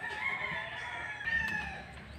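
Chickens on a backyard poultry farm raising 45-day-old birds cluck and crow, with a steady, fairly close rooster-like call running throughout and a busy flock murmur beneath it.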